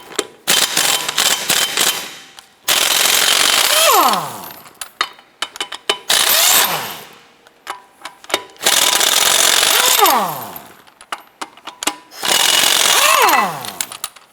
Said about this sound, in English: you can use a 22mm socket with your impact gun